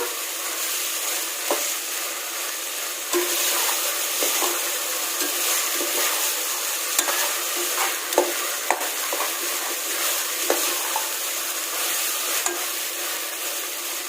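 Vegetables for white brinji vegetable rice sauté in a pan with a steady, close sizzle, broken by occasional scrapes and clicks of a spoon stirring through them. No one speaks.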